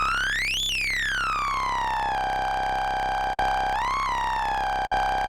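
A loud, buzzy ring-modulation tone from a miniKORG 700Sm analogue synthesizer that swoops sharply up and then glides down, wobbles once more, and briefly cuts out twice.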